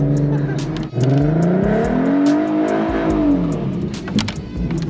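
A 3.7L Ford Mustang on summer tires revs hard during a cold-night street race, its engine note climbing and falling through a gear change. The car is loud and close, with voices and shouts heard over it.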